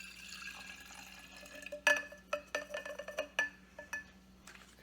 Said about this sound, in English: Put the lye into the water, not the water into the lye.